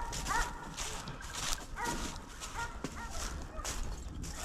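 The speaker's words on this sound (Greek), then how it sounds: "Πάνε για τα καρτέρια του μουσείου τα σκυλιά." Hunting dogs bark repeatedly during a midday wild boar hunt, loud and fairly near, with overlapping yelps in an uneven rhythm and some movement underneath.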